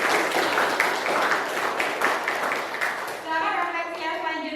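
Applause breaks out in a classroom as children clap together, a dense, loud patter of hands that holds steady for about three seconds before thinning out, with kids' voices chattering over the end.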